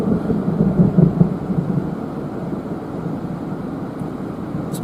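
Thunder during a lightning storm in southern Arizona, heard on a live storm chase: a low, heavy rumble that swells early and then fades into a steady, distant roll, with no talking.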